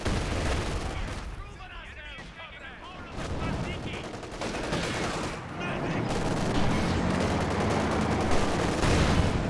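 Sniper shots and machine gun bursts in a World War II multiplayer shooter match, a dense run of sharp gunfire cracks and rattling bursts, loud and continuous, with a commentator's voice talking over parts of it.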